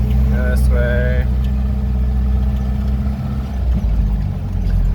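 A Jeep YJ fitted with Bilstein 5100 shocks driving a very bumpy road at about 15 to 20 miles an hour: a steady loud engine and road rumble from inside the cab, with brief rattles early on and a voice speaking over it.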